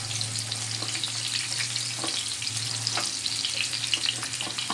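Paneer cubes frying in hot oil while being stirred, with a steady close sizzle and crackle throughout and occasional soft scraping of the utensil, no voices.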